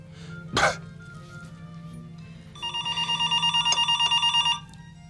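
A phone rings in a rapid repeating trill for about two seconds after a single sharp cough, with a low hum underneath.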